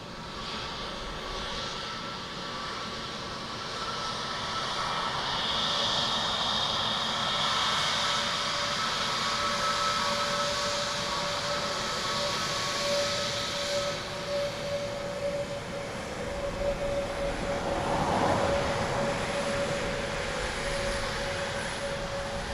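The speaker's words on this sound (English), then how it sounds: "Another 321 Neo now, gonna be Aer Lingus from Paris." An Aer Lingus Airbus A321neo airliner arriving from Paris at Dublin Airport, runway 28 left, makes a steady, loud engine roar with a sustained whine, swelling slightly toward the end.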